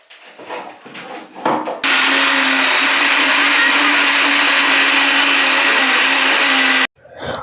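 Peeled medium onions being ground into puree in a kitchen blender: after a few handling knocks, the motor roars on loud and continuous for about five seconds, then cuts off abruptly.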